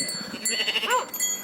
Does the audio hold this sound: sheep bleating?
yes